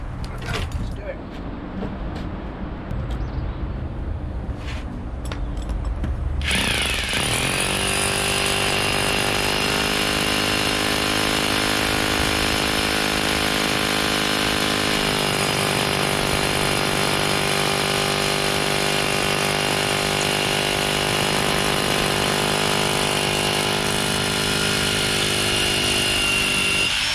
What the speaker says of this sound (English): You just drill down the length of your thumb generally, that's enough.